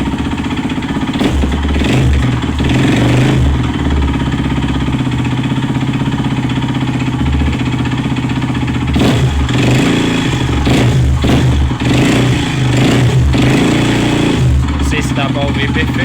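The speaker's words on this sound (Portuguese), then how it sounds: "Dá para ouvir perfeito, mas provavelmente é o rolamento da biela." A Yamaha Lander 250 motorcycle engine with a worn connecting rod bearing runs loud and near, rising and falling through repeated revs, with a metallic clattering knock riding on the engine note.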